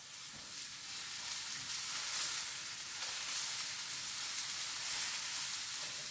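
Garlic, ginger and chili fry with leeks in a hot pan, giving a continuous bright sizzle with a crackling, spattering texture that holds steady throughout.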